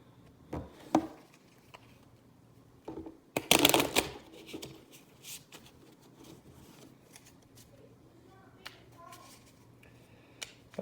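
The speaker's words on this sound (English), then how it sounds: "Shuffle's done." A deck of cards is shuffled for a board game in a few sharp, riffling bursts, one louder flurry in the middle, amid quiet handling noises at close range.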